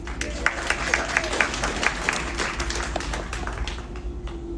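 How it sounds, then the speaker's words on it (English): A small audience claps in a scattered, uneven burst that tapers off, moderately quiet with a few sharper individual claps standing out. "Let's clap for Mario"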